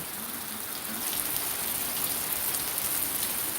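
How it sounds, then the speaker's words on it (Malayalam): Steady, heavy rain pours down in a dense, continuous hiss, with no voices over it. "ഇവിടെ എന്തായാലും നല്ല മഴ കേട്ടോ"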